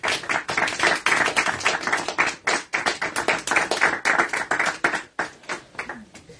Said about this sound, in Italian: allora facciamo prima un applauso